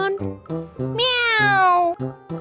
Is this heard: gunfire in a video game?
no